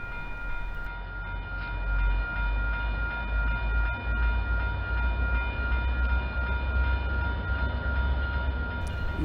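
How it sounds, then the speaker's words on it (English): A northbound UTA FrontRunner commuter train passes, its steady rumble and rolling wheel noise holding loud and close for several seconds, with a sustained tonal whine riding over the rail clatter. "This is a northbound FrontRunner headed for Ogden."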